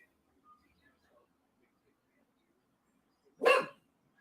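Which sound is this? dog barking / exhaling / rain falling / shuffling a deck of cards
dog barking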